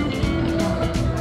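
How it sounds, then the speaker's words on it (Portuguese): A Chevrolet Opala classic car engine runs with a close, steady rumble and a throaty hum at a classic car event, without a clear starter crank in this short stretch. "Vai começar o Opala"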